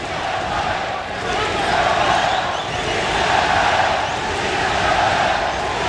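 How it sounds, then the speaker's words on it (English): Boxing crowd at the Kostya Tszyu vs Julio Cesar Chavez fight cheering and urging Chavez on, a steady, broad arena roar of voices filling the space, with no distinct peaks. "The crowd trying to urge Chavez on, but it's not helping"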